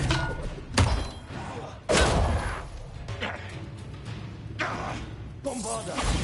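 Spell-casting effect from Hogwarts Legacy on PS5, a series of loud magical whooshes and thudding impacts, several bursts spread across a few seconds with a background voice faintly present.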